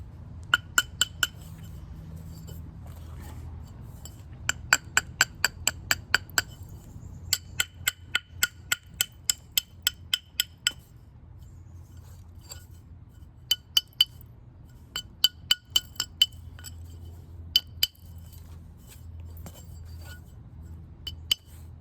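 Dacite stone struck by percussion while trimming flakes, giving sharp glassy clinks in irregular bursts and short runs of rapid taps separated by pauses, close and distinct over a low background rumble.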